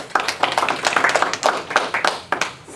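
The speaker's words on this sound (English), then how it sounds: "Ladies and gentlemen, please give a round of applause to the debaters." A modest audience at a student congress debate claps for the debaters, with individual sharp claps standing out in an uneven patter rather than a dense roar.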